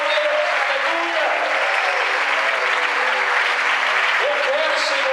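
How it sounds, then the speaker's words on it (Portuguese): A church congregation applauds during a worship service, sustained dense clapping throughout with a voice speaking over it and some faint musical tones underneath. "que você aplaudisse esse Deus agora"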